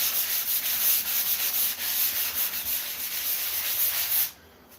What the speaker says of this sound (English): Anything where the light is exposing it, you sand it out.